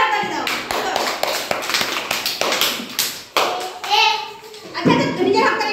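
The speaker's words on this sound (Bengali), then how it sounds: "সবাই হাততালি দাও" Young preschool children clap their hands in a classroom, uneven bursts of sharp claps mixed with kids' voices and chatter nearby, close and fairly loud.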